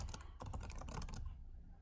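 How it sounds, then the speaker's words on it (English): Rapid clicks of a computer keyboard being typed on during an online advisory board meeting, a quick uneven patter of keystrokes that stops after about a second. "I am hearing none, but I am hearing typing."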